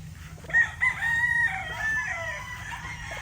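A local banded or Early bird gamefowl rooster crowing nearby, one drawn-out crow with a rising opening and a sustained tail, alone over faint background noise.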